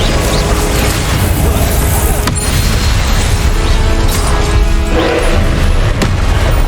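Magic spell effects from the Hogwarts Legacy video game during a boss battle, a dense, loud, continuous wash of booms, crashes and bursts with sharp impacts around two, four and six seconds.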